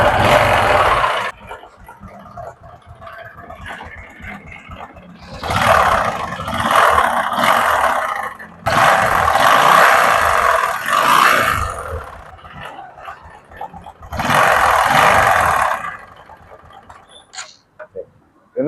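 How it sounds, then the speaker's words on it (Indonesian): A noisy Honda Karisma motorcycle engine idles and revs in loud bursts separated by quieter running, with knocking from between the block and crankcase after it once ran out of oil. "Ini untuk masalah Karisma ini, dia mesinnya sangat berisik"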